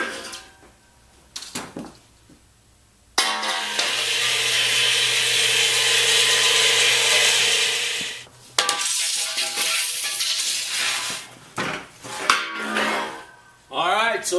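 A saw cutting metal stock in a metal shop, a loud steady grinding rasp that runs for several seconds then stops, followed by clanks, handling noises and shorter bursts.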